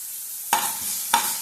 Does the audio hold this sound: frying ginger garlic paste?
yes